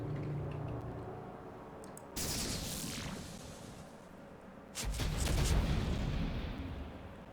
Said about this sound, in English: This is where we start shooting.